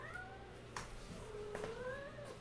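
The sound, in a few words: pet cat meowing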